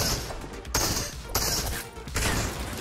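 Sniper rifle fire in a Fortnite match, heard as several sharp, loud bursts spaced about every half second to second, each cracking across the full range over a busy game background.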